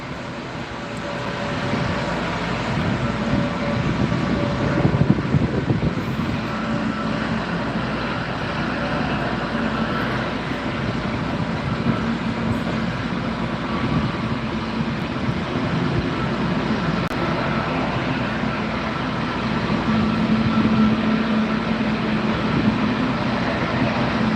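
Aircraft engine spooling up at Gran Canaria Airport, a steady broadband roar with a low hum that holds across the whole stretch, moderately loud and continuous with no talk over it.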